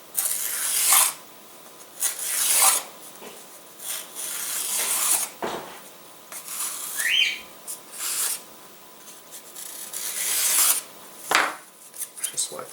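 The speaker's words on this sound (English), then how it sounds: "we're going to bevel right along here," Sandpaper or a file rasps repeatedly along the edge of a wooden model aircraft fuselage part to bevel it, giving uneven bursts of close scraping strokes with short pauses between them.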